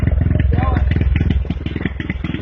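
A homemade mini tractor running on a Caliber motorcycle engine putters with a fast, even, throbbing beat close by, its chugging steady throughout.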